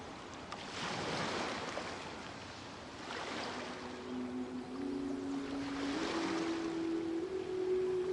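Ocean waves in Genshin Impact wash in soft, slow swells under a steady airy hiss, with a faint rising tone appearing partway through.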